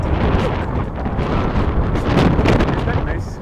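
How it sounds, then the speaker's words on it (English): Strong wind buffeting the microphone, a loud continuous rumbling roar with gusty surges. "but it's still freaking windy."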